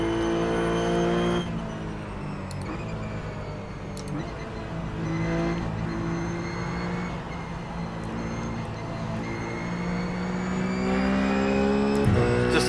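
A Ruf Cup car in iRacing at Phillip Island, engine droning loudly throughout as the right front tire locks up under braking into the first corner, with a rising skid and squeal layered over the shifting engine note.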